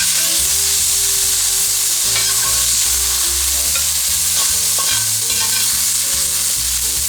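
Sirloin steak stir-fried in a pan outdoors with green beans, garlic and chilies, giving a loud, continuous sizzle with steady stirring and scraping throughout, and no talking.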